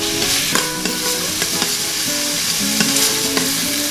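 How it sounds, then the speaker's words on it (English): Chole masala ingredients, with finely chopped onion, being stirred and sautéed in an Instant Pot: a steady close sizzle of frying under repeated scraping and clinking strokes of a spoon against the pot. "give it a quick stir. Saute it for about 30 seconds."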